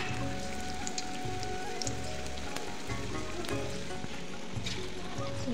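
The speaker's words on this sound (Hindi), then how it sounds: "तेल भी गर्म हो चुका है, तो इसमें डाल देते हैं थोड़ा सा, पहले चेक करने के लिए कि ये गर्म हुआ है या नहीं" Batter drops into hot oil and sizzles steadily, a dense crackling fry that continues throughout at close range with no talking.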